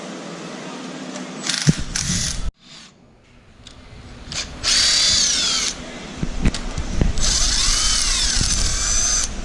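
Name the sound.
power tool removing Subaru cylinder head bolts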